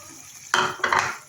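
A spoon stirs fava bean stew with garlic, peppers, tomatoes and chicken and meat broth in a pot, two close scraping strokes after a quiet moment, with no talking.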